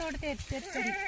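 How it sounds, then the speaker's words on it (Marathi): Several wavering goat bleats rise and fall in quick succession, close by on a farm during sweet lime picking, with voices talking over them. "हो शेळ्या"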